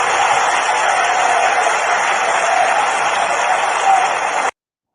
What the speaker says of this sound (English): The women are clapping.